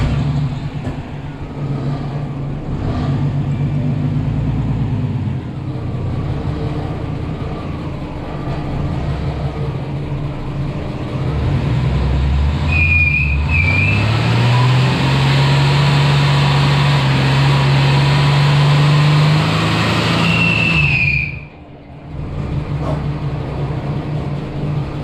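A Ford EF Falcon with lowered springs drives along, its engine running steadily and then rising in pitch as it accelerates, loud and close from inside, with a brief drop near the end.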